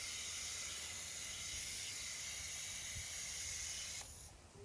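A steady, loud hiss of a water spray rinses a black car being detailed outdoors in the sun, running continuously for about four seconds before cutting off abruptly near the end.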